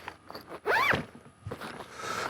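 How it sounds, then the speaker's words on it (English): A zipper is pulled closed on a kinetic recovery rope storage bag in one quick, fairly loud sweep lasting under a second, with soft handling rustles before and after. "Just zips right up, and it's nice and easy to carry"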